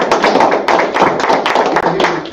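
A congregation claps together at a religious class during Sabbath services, dense rapid clapping that is loud and close, with voices mixed in underneath.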